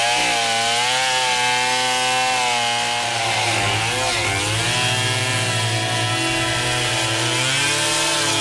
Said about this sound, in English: with a chainsaw in his hand, he can rule supreme